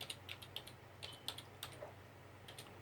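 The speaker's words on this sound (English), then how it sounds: "in the background, I am typing in my stream" Typing on a computer keyboard during a live stream, with irregular bursts of light key clicks in quick clusters and short pauses, close and fairly quiet over a low steady hum; no one speaks.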